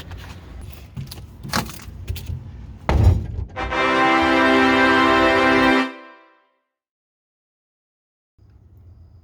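Hammer blows strike a stuck gooseneck hitch ball, several sharp metallic knocks at uneven intervals. A loud sustained ringing tone follows for about two seconds, cuts off abruptly, and then the scene goes quiet.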